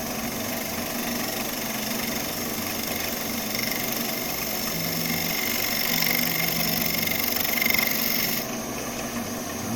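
Wood lathe spinning while a skew chisel pulls shavings off the turning stock, making a dense continuous whir and scraping drone that stays steady and loud throughout, with a slight change near the end.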